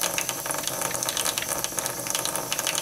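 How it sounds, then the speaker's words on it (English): Handmade aquafaba eucalyptus soap is lathered with water by hand. Close, wet squelching and squishing come in quick irregular bursts over a running-water hiss, with no talking. "it is lathering up nice"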